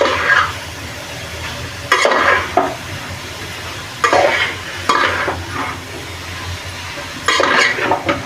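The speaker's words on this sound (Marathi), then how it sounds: "आता आपण याच्यात गाजर घालून देऊ तर गाजर चांगले परतून देऊ" Grated carrots for gajar halwa sauté in a hot pan, a steady sizzle broken by several louder bursts of stirring and scraping as the carrots are tossed, with no talking.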